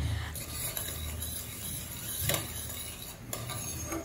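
Jaggery flavoured with cinnamon being stirred in a pot with a utensil, soft scraping and faint sizzling, with a couple of brief clinks against the pot; no talking.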